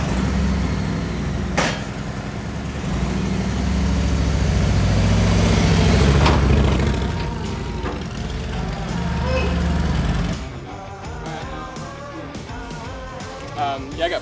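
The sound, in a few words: truck engine idling while pulling forward with trailer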